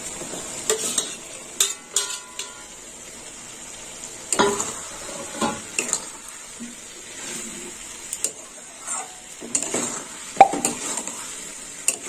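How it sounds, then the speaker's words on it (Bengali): Fried prawns and potatoes are stir-fried in a pan, giving a steady soft sizzle broken by irregular scraping and clinking strokes of a spatula against the metal, close by with no talking. "এবার দেবো ভেজে রাখা চিংড়ি মাছ আর আলু, দিয়ে কষে নেব।"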